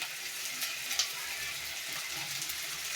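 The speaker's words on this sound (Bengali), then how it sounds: "ভালো করে ভাজা ভাজা করছি" Ginger-garlic paste and chili powder fry in a pan for a village-style chicken curry, giving a steady close sizzle with faint stirring and one brief scrape, and no talk.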